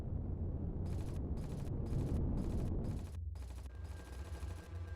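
Ship turrets in the space game Empyrion fire at an enemy vessel in rapid bursts, a series of evenly spaced loud volleys over a deep engine rumble, then stopping while the low drone continues.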